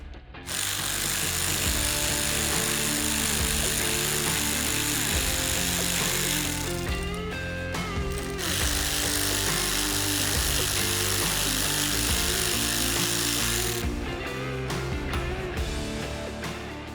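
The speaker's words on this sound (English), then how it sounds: "We'll just go ahead and remove the hardware out of the clamp." Removing hardware from the windshield clamps while installing a SuperATV flip windshield on a CFMoto Uforce 1000: a loud, sustained power-tool whir running nearly continuously with brief pauses, no talk.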